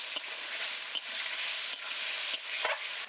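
Fried potatoes being stirred into masala frying in oil, a steady close sizzle broken by several scraping stirs across a few seconds, with no talking.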